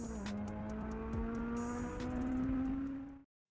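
A Toyota four-cylinder engine with a Yamaha-developed cylinder head revs hard, its high-pitched wail rising smoothly and holding before cutting off abruptly, loud and close with no talking.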